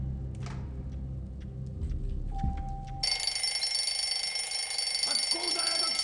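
An alarm clock rings during a speedrun of the Adel in the Blizzard chapter of a video game, cutting in as a sudden loud, continuous electronic ring after a quieter stretch of game sounds.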